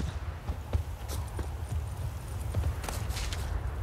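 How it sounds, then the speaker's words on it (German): Horse hooves in The Witcher 3 clip-clop on hard ground in an irregular, quick rhythm, a dozen or so distinct knocks over a low ambient rumble. "Dreht voll durch das Pferd"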